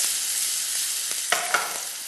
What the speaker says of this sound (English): 1 medium-sized onion, already chopped into cubes. And this has to saute well.